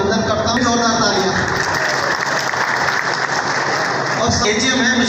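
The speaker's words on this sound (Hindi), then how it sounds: "जोरदार तालियां।" Loud, dense clapping from a crowd at a National Technology Day event at a government ITI in Sadhaura, sustained and close, with voices briefly audible around the edges.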